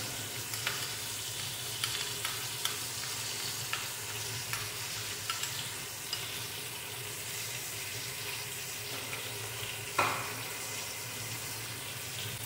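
Ginger garlic paste and slit green chillies sizzle in a pan, a steady broadband frying hiss with occasional stirring clicks and a sharper scrape near the end, with no voices.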